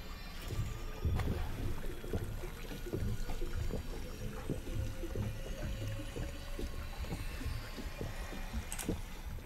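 A character in Fortnite drinks a Chug Jug healing item: continuous gulping and sloshing liquid with rhythmic swallowing thuds, steady and close, with no speech.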